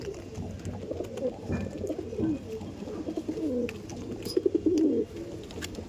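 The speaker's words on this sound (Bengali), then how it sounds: "বাহ, হাতে ডাকছে দেখছেন, খুবই সুন্দর অ্যাক্টিভ পায়রা" Soft, throaty cooing from Andhra pigeons repeats in low rolling bursts, with a louder run of coos near the end, close by and without talk.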